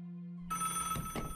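Telephone bell ringing in a video game, a steady electronic ring that starts alone and then continues beneath a burst of louder game sound, fairly close and clear.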